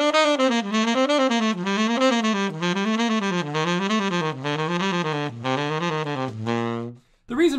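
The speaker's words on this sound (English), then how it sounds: "So on tenor, that's gonna sound like this." Tenor saxophone runs through a jazz warmup exercise, a steady sequence of connected notes rising and falling in repeating patterns, played alone and up close, ending with a short held low note before cutting off.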